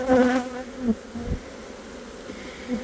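Honeybees on a hive frame of capped brood, with a short, louder burst of buzzing at the start that fades into a low, faint hum with scattered brief flares.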